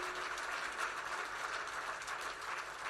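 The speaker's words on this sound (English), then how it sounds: "Let's give them both another big round of applause for what they're doing here tonight." A faint, steady round of clapping rises from an audience at a musical fundraiser evening, an even wash of many hands lasting a few seconds with no voices over it.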